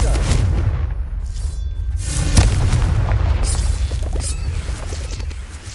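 Confringo fire spell exploding in Hogwarts Legacy, a loud booming blast with a crackling burst at about two seconds over continuous rumbling background.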